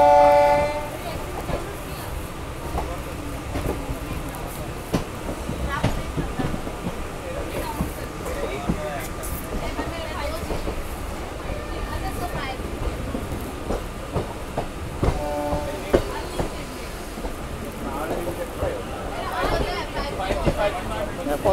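MEMU train running from Asansol to Barddhaman, with a continuous rumble and rattle of the carriages, a horn at the start and more horn blasts later, and people talking aboard.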